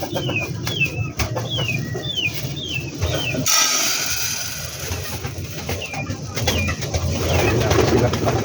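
Domestic pigeons coo in a steady string of soft repeated calls, with bursts of wing flapping and fluttering close by in a backyard coop also holding chickens.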